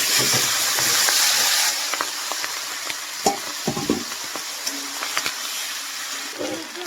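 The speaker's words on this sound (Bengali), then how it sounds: "এরকম পেঁয়াজ কালিটা আমি কড়াইয়ে দিয়ে দেবো।" Onion stalks sizzle in hot oil in a wok and a spatula stirs them, steady frying hiss broken by scraping and clinking strokes, close and moderately loud with no talking.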